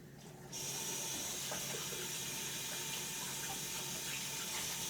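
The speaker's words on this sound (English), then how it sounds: "I'm going to wash my hands for a minute before I touch anything else" A kitchen tap is switched on and runs steadily into a sink for hand washing, a continuous close hiss of water with no voices.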